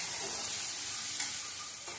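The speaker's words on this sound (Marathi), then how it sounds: "आता मीठ टाकल्यानंतर आपल्याला परतून घ्यायचं आहे" Onion sautéed with salt in a pan gives a steady, even sizzle with faint stirring scrapes, close and continuous for the whole moment, without speech.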